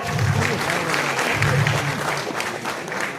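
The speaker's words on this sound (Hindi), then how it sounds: "उस जीत के लिए एक बार जोरदार तालियां" Applause from an audience at an evening Urdu mushaira held at the Urdu Academy in Gomti Nagar, Lucknow: a steady wash of clapping with voices murmuring and calling beneath it throughout.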